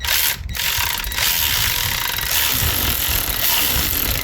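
A ratchet wrench loosening the drain plug under a 2005 Jaguar S-Type clicks in rapid, close, loud ratcheting bursts that run almost continuously with a brief pause near the start.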